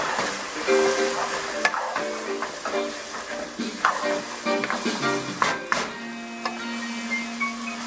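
Kwetiau noodles are stir-fried in a wok, with a moderate sizzle under repeated scraping and tossing strokes of the spatula, close up and uneven in rhythm.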